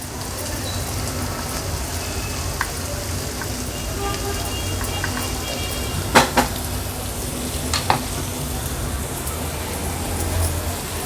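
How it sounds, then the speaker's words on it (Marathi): Coarse green masala paste fries in oil with onions for an aubergine curry, a steady dense sizzle with occasional sharp scrapes of stirring close by. "हे हिरवं वाटण ॲड केल्यानंतर तेलावर व्यवस्थित आपल्याला हे मिक्स करून घ्यायचं आहे कांद्यामध्ये हा मसाला छान परतून घेतला"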